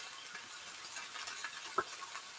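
Beef, black beans and cashews stir-fry in a pan with sauces, giving a faint, steady sizzle broken by a few light scrapes of a utensil, with no voices.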